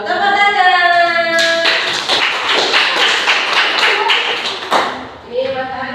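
Classroom of children clapping their hands in a loud, dense burst of applause lasting several seconds, starting after a sustained tone and fading out, with voices mixed in.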